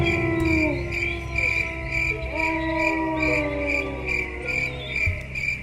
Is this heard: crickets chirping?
yes